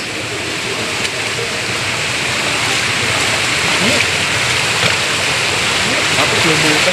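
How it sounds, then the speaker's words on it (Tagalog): Floodwater rushes in a strong torrent flowing from Bocaue toward SM Marilao, a loud, unbroken roar close by with faint voices underneath. "Napakalakas pala ng bugso ng tubig galing dito sa taas."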